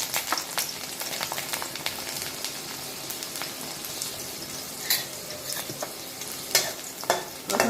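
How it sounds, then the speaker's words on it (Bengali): Garlic frying in hot oil in a pan, a crackling sizzle punctuated by sharp spatula clicks and scrapes as it is stirred, close and fairly loud. "এখানে প্রথমে তেলের মধ্যে আমি রসুনটাকে দিয়ে দিলাম।"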